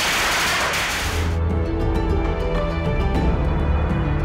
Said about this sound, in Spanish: Cuando llega el león, ahí se les prenden fuegos de artificio para espantar los malos espíritus